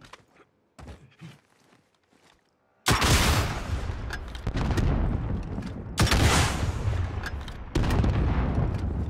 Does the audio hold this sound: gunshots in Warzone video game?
yes